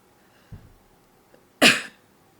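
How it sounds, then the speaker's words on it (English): One person coughs in a quiet room: a soft intake of breath, then a single sharp, explosive burst close to the microphone that quickly fades. "interesting that I coughed"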